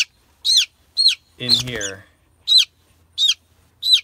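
A sick, puffed-up bird gives a series of short, sharp, high calls at a regular pace, about six close and loud, with a brief stretch of a person speaking in the middle.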